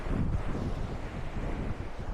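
Strong wind buffets the microphone in a steady, low roar throughout at Yeppoon, with gusty rumbling and no voices.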